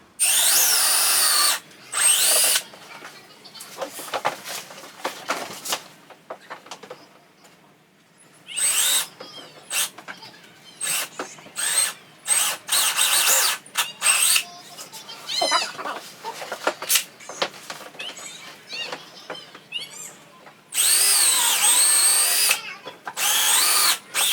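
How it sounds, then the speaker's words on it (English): A power drill whines in repeated bursts, loud and close, drilling through a BMW E92 335i rear bumper from the inside, with short pauses between runs and some handling noise in the gaps. "drill the finishing amount. Do it from the inside."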